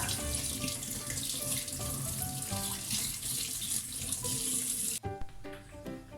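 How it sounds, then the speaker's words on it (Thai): Fresh shrimp are rinsed in a colander under a strong, steady kitchen tap, with loud rushing water that cuts off abruptly near the end, leaving a few drips and splashes. "อันนี้เราก็จะใส่ตะแกรงให้เสด็จน้ำไว้นะคะ เป็นแบบนี้นะ ก็จะล้างไปเรื่อย ๆ ล้างให้สะอาดเลย"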